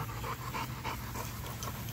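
An American Bully dog pants rapidly and rhythmically after a play session, the quick breaths close and clear with no voices over them.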